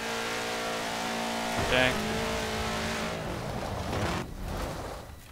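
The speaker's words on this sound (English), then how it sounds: "You don't shift until you hit the rev limiter at least once." A car engine in Forza Horizon 4 revs hard against the rev limiter, holding a steady buzzing drone with a brief sharp spike partway through and a rougher rumble near the end, under a short spoken word.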